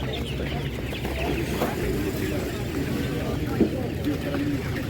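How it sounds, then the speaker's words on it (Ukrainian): Chickens clucking amid a busy outdoor village market in western Ukraine, with voices chattering in the background and a steady crowd murmur throughout. "Курей дуже багато, різних."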